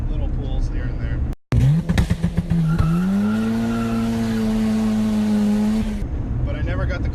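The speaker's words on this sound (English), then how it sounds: "right now I have the turbo together. I have the car running." A turbocharged car engine running close up, a steady droning note that rises in pitch, holds for several seconds and then cuts off, with brief rattles and clicks around it.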